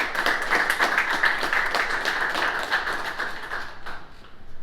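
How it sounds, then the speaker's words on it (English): Applause from the audience at the WPIAL Hall of Fame Class of 2022 announcement, a dense run of claps that stays steady for about four seconds and then begins to thin out near the end. "Let's have a collective round of applause for the History Center and their support."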